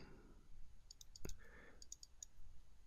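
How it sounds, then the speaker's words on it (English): Quiet computer mouse clicks while selecting a template, a few faint light taps with one sharper click in the middle, close against a low background hum. "select the 2-lane rule template by double-clicking on it"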